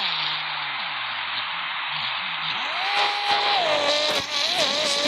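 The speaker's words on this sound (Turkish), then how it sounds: "İşte 150 metrelik drift'i böyle atıyorum" A BMW M4 drifting in the Car Parking video game, its engine droning high and steady while the pitch slides up and down through long gliding sweeps, with brief sharp tire squeals near the end.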